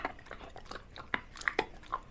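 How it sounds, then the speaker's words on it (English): A dog gnaws on a dental chew close by, producing a soft run of wet, irregular crunching and clicking bites with brief sharper snaps. "the secret to these dental chews is a lot of chewing"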